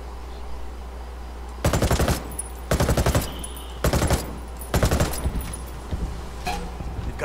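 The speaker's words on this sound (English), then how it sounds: "Under a lot of fire." Enemy gunfire in Ghost Recon Wildlands comes in four or five loud automatic bursts of rapid shots, separated by short pauses over a low game hum.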